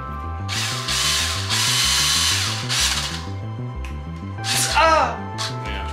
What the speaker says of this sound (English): That little tiny drill is what I use for fixing PS3s